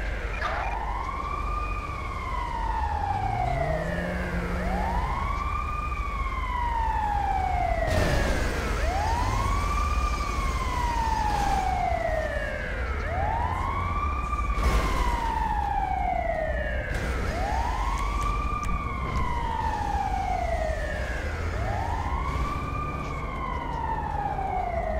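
An ambulance siren from the video game GTA V wails in a steady repeating rise-and-fall cycle, loud and continuous, with engine rumble underneath and a brief horn-like blast midway.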